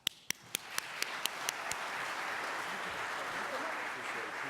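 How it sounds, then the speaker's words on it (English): Audience applause at an intelligence conference, opening with a few sharp single claps that quickly swell into a dense, steady round of clapping from a large crowd. "Clap."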